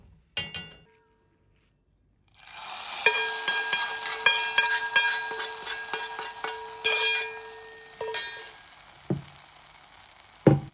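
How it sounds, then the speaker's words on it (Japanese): Fenugreek seeds, cumin seeds, curry leaves and red chili powder sizzle in hot oil, then the tempering is poured onto a tomato curry with a loud, steady crackling fry, a few clinks of utensils and a brief knock at the start and end. "そして約5秒炒めたら、カレーの上に流し込みます"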